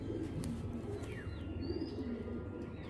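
Soft, low cooing from big-headed, blue-eyed Giribaj pigeons with eagle-shaped heads, murmuring steadily through a dense, close-miked flock noise with a few faint chirps above.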